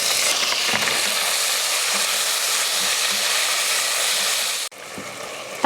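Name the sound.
green chillies sautéing in a pan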